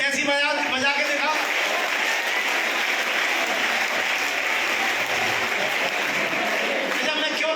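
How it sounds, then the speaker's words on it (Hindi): Children at a bicycle and benefits distribution event for construction workers' families clap together in a scout-style clap, a loud, continuous burst of many hands close by, with voices talking over it. "वो स्काउट ताली कौन जानता है? 1 2 3 ऐसी बजा के दिखाओ"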